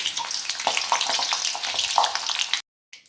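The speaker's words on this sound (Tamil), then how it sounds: "நம்ம ஒரு 10 அப்பளம் போல் நல்லா பொரித்து எடுத்துக்கோங்க" Papad crackles and sizzles in hot oil, a busy bubbling hiss with small pops, close by, before cutting off abruptly near the end.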